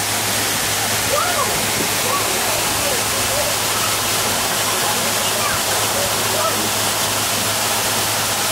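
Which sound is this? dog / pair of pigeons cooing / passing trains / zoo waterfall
zoo waterfall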